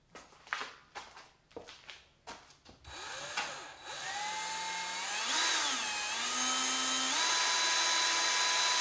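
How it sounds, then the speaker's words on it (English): A few soft taps, then a power drill whirs up and runs continuously, its pitch rising and dipping as it bites through the side of a hard animal claw, a turkey spur or bear claw. "I'm just gonna drill straight through the side"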